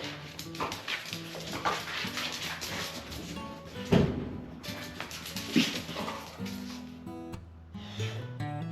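A dog indoors whimpers and gives short yips over ongoing background music and household noise, the sounds coming in small bursts across several seconds, moderately close.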